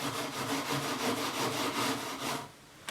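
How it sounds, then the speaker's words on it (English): A painted wooden stair spindle is scrubbed with a hand scrubber or wire wool during paint stripping, giving a close, continuous abrasive rasping in rapid back-and-forth strokes that stops near the end. "For the actual spindle body, we can use our hand scrubber or wire wool."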